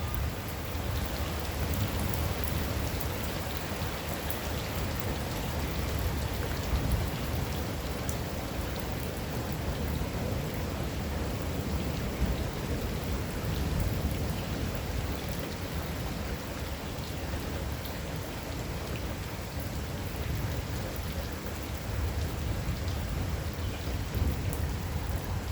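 Steady heavy rain pours throughout a thunderstorm, with low rumbling thunder rolling underneath, a dense constant wash of sound with no voices.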